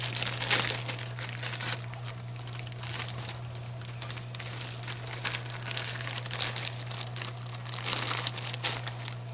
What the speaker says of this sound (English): stick them in a Ziploc baggie, in this Ziploc baggie here.